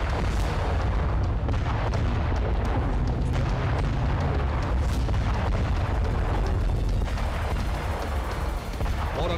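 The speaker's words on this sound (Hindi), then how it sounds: "बेलगोरोद में ही यूक्रेन ने रूस के रेडियो स्टेशन को इस धमाके से तहस नहस कर दिया" An explosion destroying a Russian radio station in Belgorod: a dense, continuous roar of heavy rumbling blasts and booms, with crackling bursts layered through it, loud and chaotic throughout.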